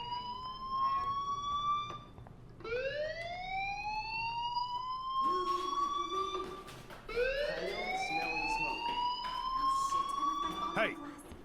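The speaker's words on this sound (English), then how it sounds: "Hey, do you hear that fire alarm?" A school fire alarm in the Life Is Strange video game wails in rising sweeps that repeat about every two to three seconds, loud and continuous, with people talking faintly underneath.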